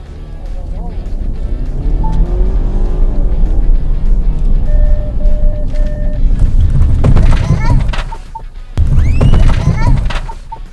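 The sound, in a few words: Ford Kuga braking test at 50 km/h, hitting a balloon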